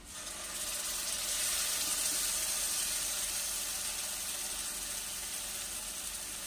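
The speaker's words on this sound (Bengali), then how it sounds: "বাটি ধুয়ে একটু জল দিচ্ছি" Water running from a kitchen tap while a bowl is rinsed before the water is poured into a cooking pan, a steady close hiss of flowing water lasting several seconds.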